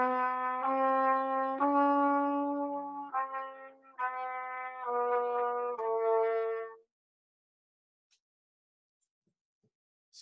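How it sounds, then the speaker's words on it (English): Chromatic scale moving in half steps, one adjacent note after another in a quick stepping run for about seven seconds, then silence; no talking. "Chromatic scales would sound something like this."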